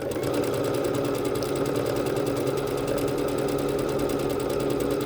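A Bernette B-77 sewing machine stitching a decorative asterisk pattern at fast speed, a steady rapid mechanical whir with even needle clatter, close and continuous, no talk.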